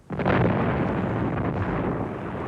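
A gunpowder store explodes in a loud, sudden blast that erupts and then rolls on as a dense, sustained roar of rumbling debris and noise.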